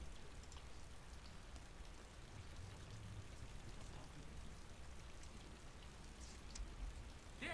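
Water flooding into a damaged submarine compartment in Silent Hunter 3, a dense, steady rushing hiss with a low rumble that continues unbroken.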